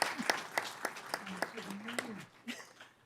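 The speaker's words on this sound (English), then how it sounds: "One last round of applause." Scattered, sparse clapping from a few people at a San Bernardino County meeting, individual claps ringing out in an uneven rhythm while a person talks over them.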